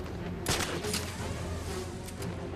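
Gunfire in the video game Batman Arkham City, several bursts of shots over a steady game background, fairly loud and close.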